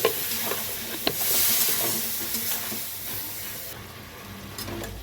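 Ground spices with ginger and a splash of water sizzle and hiss in a hot pan for a fish curry, with stirring scrapes and clicks of a spatula, loud and close, easing toward the end.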